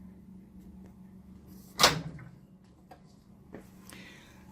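A microwave oven door closes with a single sharp, close click-thud near the middle, followed by faint small clicks and a low steady hum in a quiet room.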